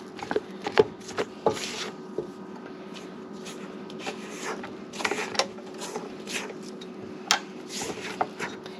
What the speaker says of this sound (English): Mix it lightly, and that's good enough. Now we just mix it by hand.